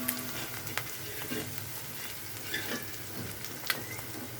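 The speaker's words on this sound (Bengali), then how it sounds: "আদা বাটা দিয়ে এখানে আমি আরও কয়েকবার নেড়ে ছেড়ে দেব।" Chicken and potato curry frying in a pan with ginger paste added, a steady close sizzle with soft scraping stirs scattered throughout, no voices.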